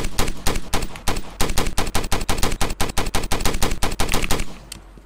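Rapid bursts of automatic gunfire in the video game Flashing Lights rattle loudly and continuously, a fast string of close shots that stops abruptly near the end.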